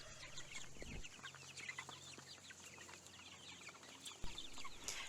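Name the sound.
chickens clucking in a chicken tractor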